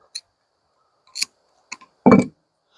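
Scissors snipping through hammock strap cord at its middle point, a few sharp close clicks followed by a heavier crunching cut.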